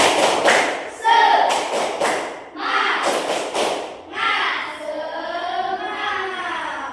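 Elementary school pupils in a classroom perform a spirit clapping chant: several sharp, rhythmic bursts of group clapping alongside chanting children's voices, close and lively.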